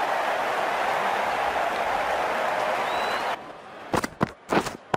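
Cricket crowd in the Cricket 19 video game, IPL match simulation, as a steady broad roar of cheering and applause that cuts off abruptly after about three seconds, followed by a few short bursts of commentary voice.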